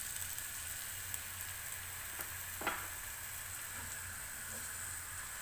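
Chopped onions and whole cumin seeds fry in a pan for an egg ghotala, giving off a faint, steady, even sizzle with a few soft clicks of stirring and no talk.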